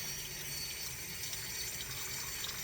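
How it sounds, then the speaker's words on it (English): Hot water running into a mixing bowl for French bread dough, a steady continuous splashing pour of even loudness with no voices. "Add hot water to your bowl because you're going to need it."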